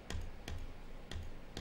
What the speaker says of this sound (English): You might hear the clicking.